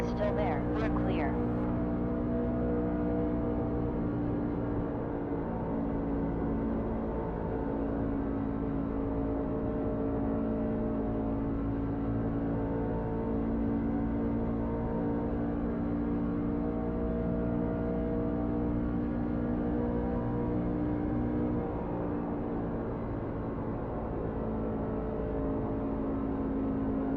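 A NASCAR truck engine in a racing video game drones continuously at high revs, a steady loud whirring roar throughout with a spotter's radio chatter and talk over it.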